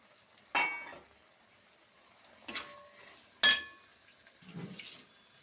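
Vegetables such as beans, peas and carrots are dropped onto fried onions and ginger-garlic paste in a pan for vegetable biryani, giving four separate short bursts of sizzling and stirring scrapes with quiet gaps between them.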